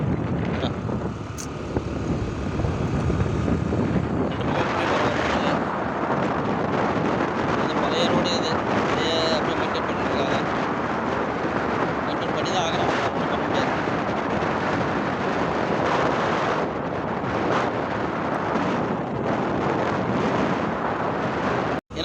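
A two-wheeler on a road trip from Alangayam to Puthur, with a loud, steady wind roar buffeting the microphone throughout the ride and engine noise running beneath it. A voice may be faintly present.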